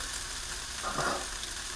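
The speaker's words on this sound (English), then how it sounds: "as you can hear, it's not a real loud sizzle this time" Quiet, gentle sizzling of food frying in a pan, a soft hiss with a slight swell in the middle.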